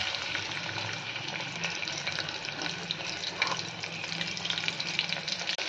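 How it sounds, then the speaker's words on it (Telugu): Ginger pieces fry in hot oil in a pan, a steady close crackling sizzle with scattered pops and some stirring, no talk. "ఫస్ట్ నూనెలోని అల్లం వేసుకోవాలి."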